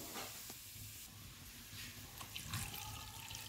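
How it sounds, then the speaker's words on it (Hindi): Water runs and splashes steadily into a cooking pot while making chicken tikka pulao, with a continuous rushing hiss and a few small clinks, close by. "अब साथ ही थोड़ा सा इसके अंदर मैं पानी ऐड करूंगी।"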